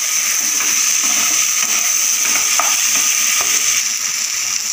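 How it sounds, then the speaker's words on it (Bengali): Spice paste with potatoes and a large tomato cooks down in a pan, a loud continuous hiss of frying with faint scattered scrapes from stirring underneath. "এখন মশলাটা ভালোভাবে আমি কষিয়ে নেব আলুর সাথে"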